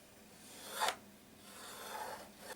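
Pencil or marker drawing a line across a wood jigsaw crosscut sled, a soft scratchy rub with one brief louder stroke followed by a longer, quieter stroke, close and without any voices.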